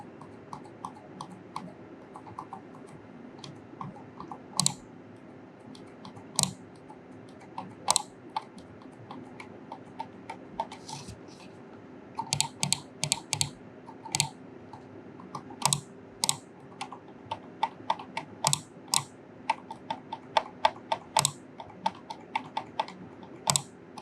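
Left button of an Attack Shark X6 wireless mouse with a faulty pre-click, clicking repeatedly in sharp, close, irregular bursts over a steady low hum, with no talking.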